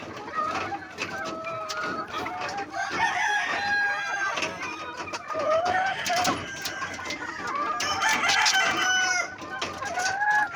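A hen clucks repeatedly amid a busy chorus of chickens, including Asil chickens, with scattered crowing and clucking throughout, fairly close and continuous.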